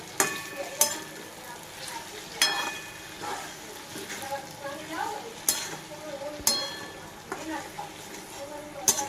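Sabudana khichdi stirred in a pan, with repeated sharp scrapes and clinks of a spoon against the metal at an uneven rhythm over a soft background sizzle.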